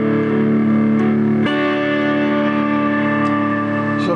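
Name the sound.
guitar distortion effect blended in parallel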